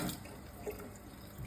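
Water runs steadily through the hoses of a newly installed Kangen K8 water system, a soft, continuous splashing flow from a tap with faint dripping, fairly quiet and unbroken.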